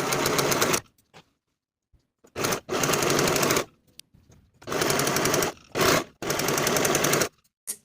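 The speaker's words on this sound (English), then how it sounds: "I'm going to finish both raw shoulder edges with my serger for the back piece, as well as for the front piece" A serger overlocks the raw shoulder edges of evening dress pieces in four loud, close bursts of rapid stitching, each lasting about a second, separated by brief silences.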